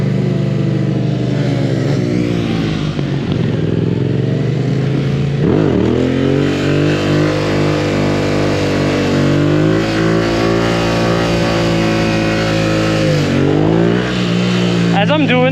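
A motorcycle engine revs hard and close during wheelies. Its loud, layered drone swoops down and back up several times as the throttle is rolled off and reopened.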